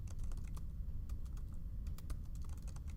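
Rapid keystrokes on a computer keyboard while entering spreadsheet labels in Excel, a quick irregular patter of clicks close by with no talking.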